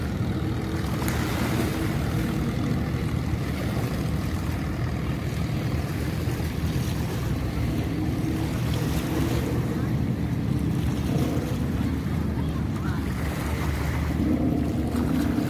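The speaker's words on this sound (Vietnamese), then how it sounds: "Khi mà những chiếc thuyền và những chiếc vỏ lại đi qua thì tạo nên những cơn sóng nhỏ thế này." Small waves stirred up by passing boats slosh steadily on the Saigon River, under constant wind buffeting the microphone, with a continuous wash of water and no clear pauses.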